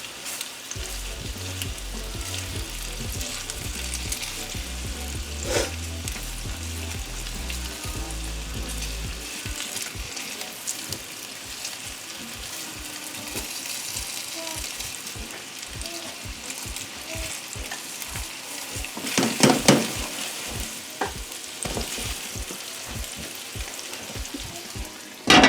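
Meatballs fry in a pan with a steady, close sizzle, broken by frequent scrapes and clatters as they are stirred and turned, with a brief louder burst of spattering near the end.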